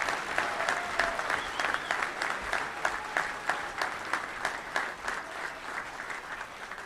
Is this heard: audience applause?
yes